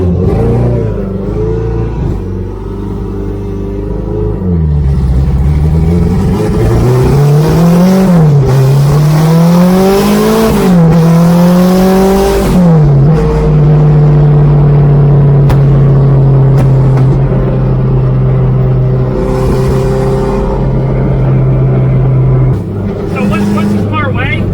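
A Corvette C6 ZR1 V8 roars loudly from inside the car during a ride, revving up through rising pitch sweeps with gear changes, then settling into a steady high drone for a long stretch.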